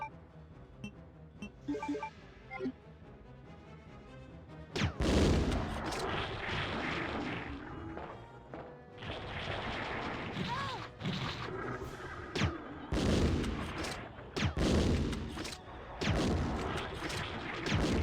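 Gunfire from a character shooting at the ground in the Resident Evil 2 video game: loud, repeated blasts and crashing bursts that start abruptly and keep recurring, with sustained noisy game action between shots.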